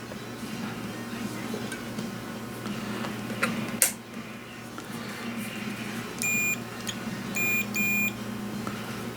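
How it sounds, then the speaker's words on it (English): A multimeter in continuity mode sounds short tonal beeps while probing the contacts of a Commodore C64 Tac-2 joystick under repair; several crisp beeps come in two pairs near the end, over a steady background hum, with one brief knock earlier. "I have my multimeter here."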